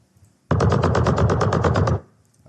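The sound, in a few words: gunshot sound effect added in Unity game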